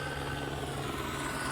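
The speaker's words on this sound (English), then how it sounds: "it ain't LA without some helicopters" A helicopter passes over a Los Angeles beach, a steady, fairly loud rotor thrum and engine whine that hold constant, with no talk.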